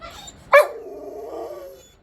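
One sharp, loud dog bark lands near the mic and trails off into a drawn-out whining moan, in a home setting with budgies and a cockatoo.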